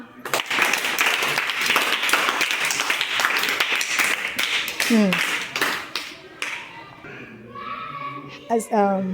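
A classroom of children claps for a student, a loud, sustained patter of small hands lasting around five seconds before fading, followed by children talking.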